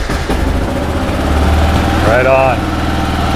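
A Kawasaki KLR 650 motorcycle engine runs at a steady, loud idle, its close, continuous rumble under a short spoken remark partway through.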